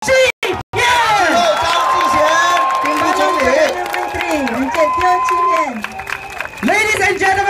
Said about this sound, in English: Big round of applause for our PAP candidates.